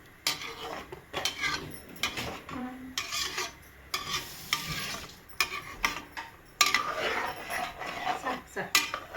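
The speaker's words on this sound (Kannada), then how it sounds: "ಲೈಟಾಗಿ ಬೆರೆಸು, ಉತ್ಬೇಡ." A spoon scrapes and clinks against a pot while ghee rice is stirred lightly, in a series of irregular metallic strokes with faint sizzling between them and occasional voices.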